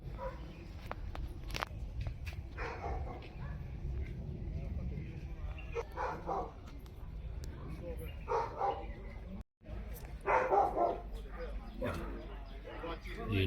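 Dogs bark intermittently along a hillside hiking trail, sharp scattered woofs and yips at middle distance, mixed with footsteps on the path and people talking.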